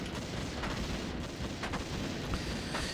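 Machine gunners firing in Warcraft 3 gameplay, a dense continuous wash of rattling gunfire and distant booms with a few sharper cracks, steady and loud throughout.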